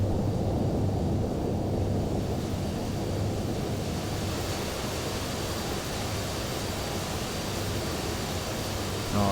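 A steady, broad engine roar with a low hum holds evenly throughout, like a large jet idling or rolling slowly on the ground: a large airliner taxiing in the FSX flight simulator game.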